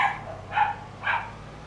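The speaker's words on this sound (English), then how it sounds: "The dog is going mad, which is awesome when you're trying to do a video." A dog barks three times, spaced at steady intervals and fairly near, beside a road lined with ditches on a farm map in Farming Simulator 22, with no talk.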